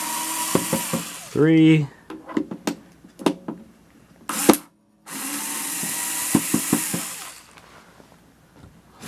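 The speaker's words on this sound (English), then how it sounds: "4 screws undone." Screws are undone from a 1972 Magnavox Odyssey console: a brief rising whir, scattered clicks and taps, then loud bursts of rushing noise, close by, while a man counts aloud.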